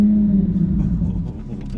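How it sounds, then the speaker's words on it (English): A 2024 Corvette Z06 fires up, a loud deep engine rumble with a strong low drone that settles and fades slightly toward the end, close and alone. "one of my favorite parts about this car is the startup noise"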